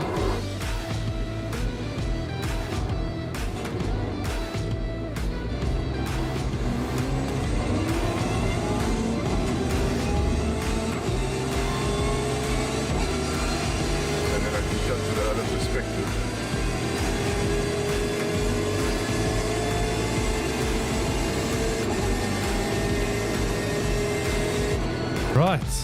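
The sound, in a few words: car driving a fast lap on a track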